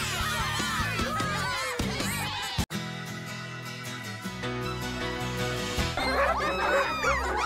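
Several cartoon puppies bark and yip in short, high bursts over busy background music, clustered near the start and again toward the end.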